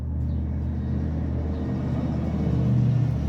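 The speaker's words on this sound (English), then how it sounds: "Wait for that truck to pass." A truck rumbles past on the street outside a storage locker, a steady loud low drone with the engine swelling slightly toward the end, with no talking over it.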